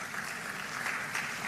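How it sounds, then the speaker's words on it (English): Brief burst of audience applause at the Africa Retail Congress, a hall full of delegates clapping in a dense, even wash, moderately faint and steady throughout. "let's take a moment to give ourselves a hearty round of applause"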